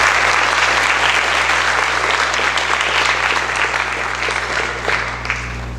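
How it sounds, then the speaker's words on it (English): Audience applause at a high school academic awards ceremony, loud sustained clapping from a large crowd that continues evenly and tapers slightly toward the end. "Please give a round of applause for Malcolm."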